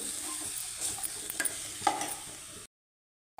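Palak dal is stirred in a pan over heat, giving soft scraping stirs and a light sizzle with a few sharper clicks before the sound cuts to silence near the end.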